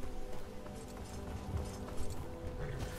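Horse hooves clip-clop at a steady trot in the video game Skyrim, moderately loud and continuous against a layer of tonal in-game music, with no talking.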